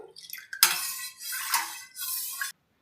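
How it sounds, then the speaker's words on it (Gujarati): A spoon stirs orange kulfi mixture with added powder in a bowl, giving bright clinks and scraping swirls in two or three loud passes against the bowl before stopping. "સરસ રીતે મિક્સ કરી લેશું."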